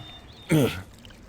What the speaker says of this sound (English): Oh, geez, the water's backing up.